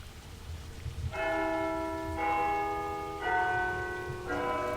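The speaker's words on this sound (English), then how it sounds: "There's the bell again." A church bell tolls four times at a slow, even pace, each stroke ringing out and overlapping the decay of the last against a soft rainy background, with no talking.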